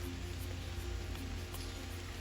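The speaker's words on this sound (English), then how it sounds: "I'm thankful for the rain that is coming now" Rain falls steadily over a summer garden of blooming oriental lilies, a faint, even patter of drops on surfaces with soft occasional louder taps and no voices.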